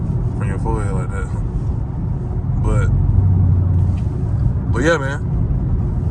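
A catless Dodge Scat Pack engine in track mode rumbles steadily close by, swelling slightly in the middle, while someone talks over it in short bursts.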